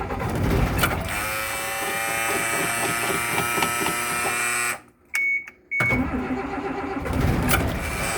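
A 1996 Blue Bird bus diesel engine cranking and straining to start after sitting for a month. The starter whirrs steadily and loudly, cuts out briefly, then cranks again.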